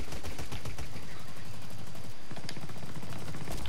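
Video game gunfire rattles in dense, continuous bursts, loud and close, with fast shots piling up throughout and a sharper volley near the end.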